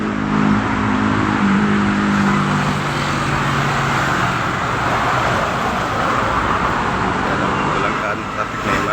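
Busy street traffic beside a market in the Philippines, a loud continuous roar of passing cars and engines with a brief horn-like tone early on, steady throughout.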